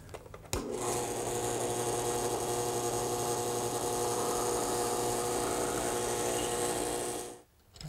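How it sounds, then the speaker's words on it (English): A power drill bores a hole straight through wood for a threaded rod on a garden swing build, starting with a sharp bite, then grinding and whirring steadily for about seven seconds before cutting off. "So I need to drill some holes all the way through."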